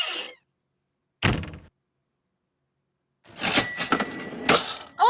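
MSN Messenger's door opening chime, played in a short burst, then a second loud hit after a silent gap, and later a longer brighter run of tones. No one speaks.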